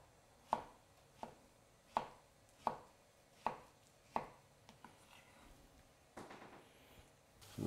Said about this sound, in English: I'll cut this one.